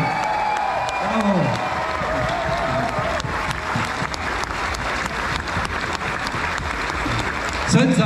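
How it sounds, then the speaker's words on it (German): An outdoor crowd at the Bächtlefest in Bad Saulgau applauds steadily after a music fireworks show, a dense continuous clapping with occasional faint voices and cheers mixed in. "Dieser Applaus."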